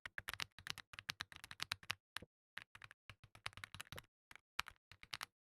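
Typing on a heavy, non-RGB mechanical computer keyboard with a dial, heard as rapid bursts of crisp, close keystrokes broken by short pauses.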